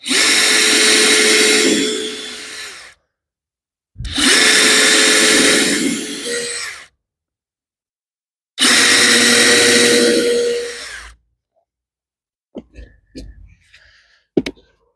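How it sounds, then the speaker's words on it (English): A power drill drills fresh holes for pool anchors in three separate bursts of a few seconds each, separated by silence, followed by a few light clicks and knocks. "I've got my drill and my drill bit, and I'll line it up,"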